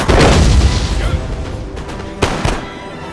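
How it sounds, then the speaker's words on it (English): Howitzer artillery fire from the video game Napoleon Total War at the Battle of Dresden, with heavy booms and battlefield rumble throughout and a sharp, nearer blast standing out late, under a faint voice. "There's a nice howitzer round right there."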